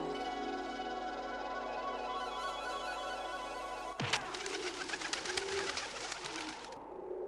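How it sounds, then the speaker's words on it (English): Pigeons coo in a video game, The Legend of Mulan from 1998: soft, repeated cooing calls carry on throughout, close and steady over a faint musical background, with a sharp shift in the ambience midway. "Hey, pigeons, what should I do now?"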